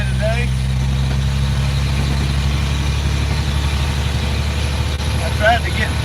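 A Detroit diesel truck engine idles steadily with a low, rumbling drone throughout, loud and close.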